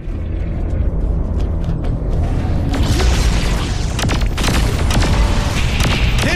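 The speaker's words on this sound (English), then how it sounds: "With all these explosions, either it's under attack or it's coming apart." Explosions boom during a Saints Row IV video game cutscene aboard a ship, with loud, repeated blasts and crackling bursts layered over a continuous heavy rumble.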